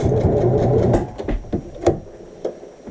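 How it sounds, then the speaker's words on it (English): A sewing machine back stitches a flat felled seam: a dense, close mechanical rattle for about a second, then a few scattered clicks and thumps as it slows and stops. "We're going to do a little back stitch."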